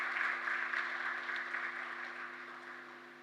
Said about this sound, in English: they all deserve a big round of applause